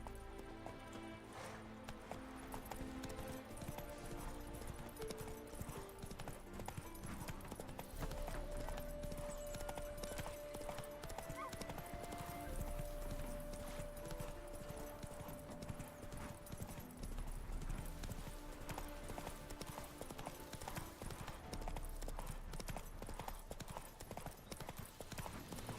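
A horse's hooves clip-clop at a steady gallop while riding in The Witcher 3, a rapid, even rhythm that runs throughout alongside game music, with faint character voices now and then.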